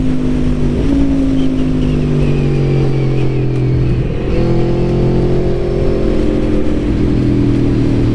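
A 2021 Aprilia Tuono V4 Factory motorcycle's engine drones loudly and close while riding, its pitch easing down then climbing again as revs change, with steady rushing wind noise.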